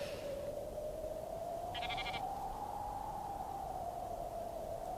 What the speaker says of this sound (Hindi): तुम अपनी ये भेड़ बकरियां संभाल के रखो।